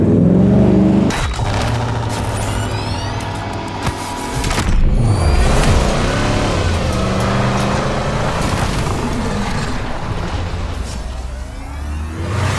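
A Ram TRX and a Ford Raptor R pickup pull away with loud, throaty engine revving that rises and swells as they accelerate off, then holds a steady roar throughout.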